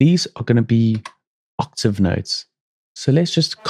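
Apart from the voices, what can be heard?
None of the usual background noises is heard.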